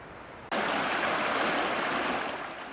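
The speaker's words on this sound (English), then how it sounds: "This week we're at Diamond Creek Falls," Rushing water of Diamond Creek near Diamond Creek Falls outside Oakridge, a steady broadband roar that begins abruptly and carries on loud and constant, with no voices.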